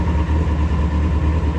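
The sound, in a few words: Citroen Saxo engine running through exhaust in a tunnel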